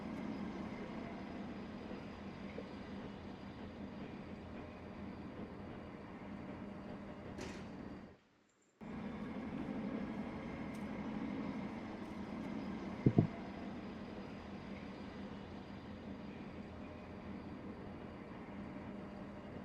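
Steady low rumble of a model train looping around its track in a computer game, a continuous mechanical drone that briefly cuts out, then resumes with a small clicky blip partway through.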